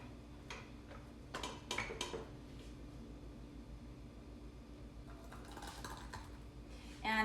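Homemade jam being ladled into glass jars, with faint scattered clinks and light taps of a ladle against glass in a quiet kitchen, a brief louder clatter closing the clip.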